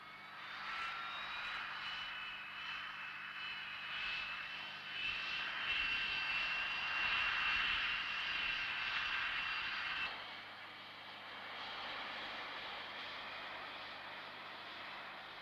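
A Hawker Siddeley Harrier military jet aircraft roars steadily with a high engine whine, swelling louder in the middle before easing back, a sustained engine drone with no voices over it.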